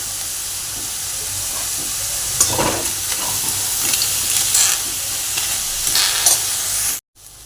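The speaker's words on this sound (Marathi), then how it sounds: "इथे मी 2 मोठे कांदे कापून घेतलेले आहेत। हे आपण छान असे भाजून घेणार आहोत।" Two large cut onions roast in a pan, a steady close sizzle and hiss with intermittent stirring scrapes that runs continuously before cutting off abruptly at the end.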